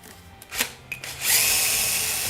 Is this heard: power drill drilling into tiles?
yes